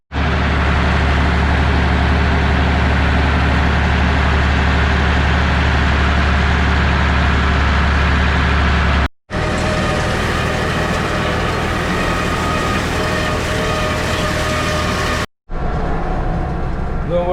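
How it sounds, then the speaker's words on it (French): A farm tractor's engine runs loudly and steadily at close range during hay baling and wrapping work in a field, with a constant droning rumble broken by two brief cuts. "Et on remonte en tracteur."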